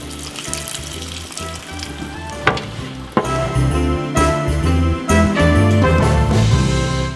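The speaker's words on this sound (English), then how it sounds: "We got our gorgeous stock simmering away for our gravy." Stock for Thanksgiving gravy bubbling and sizzling in a pot, a close crackling frying hiss with clatters and bursts of louder sizzling partway through.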